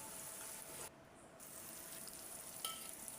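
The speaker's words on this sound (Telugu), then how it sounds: "గుడ్డు ఇప్పుడు మరీ గట్టిగా కాకుండా కొంచెం అట్లా దాన్ని కొంచెం కదుపుతూ చిన్నగా ఉడికించుకోవాలి" An egg and onion mixture cooks in a pan over a slow flame, giving a faint, steady low sizzle with a brief soft stirring scrape near the end, heard close but quiet.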